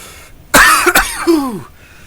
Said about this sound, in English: Ah, stupid winter coughs.